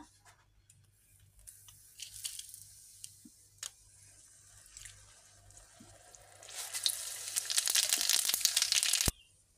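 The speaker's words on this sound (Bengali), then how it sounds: "এই যে দিয়ে দিব সর্ষের তেল, এই যে ফোড়ন দেব শুকনো লঙ্কা, কালো জিরে, মৌরি আর তেজপাতা" Dry red chillies, nigella seeds, fennel and bay leaf hit hot mustard oil, bursting into a loud crackling sizzle near the end after quiet scattered clinks and taps.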